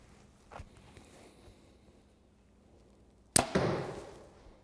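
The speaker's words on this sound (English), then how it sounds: "I can definitely tell a difference in the noise of my bow shooting these heavier arrows." A compound bow looses a heavier elk hunting arrow with one sharp, close snap and a short buzzing decay, after a quiet stretch of faint movement and shuffling.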